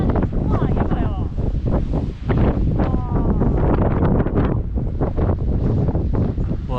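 Strong wind at Heart O' the Hills Campground in Olympic National Park buffets the microphone with a loud, continuous rumble while people talk over it the whole time.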